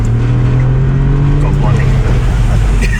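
Ford Fiesta ST driven hard into a corner, its engine droning loud and close with tyre and road noise while someone speaks over it.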